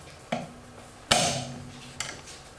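A breaker bar on a socket cracks wheel lug nuts loose while brake pads are being changed, giving three sharp metallic clanks. The middle clank is the loudest and rings briefly.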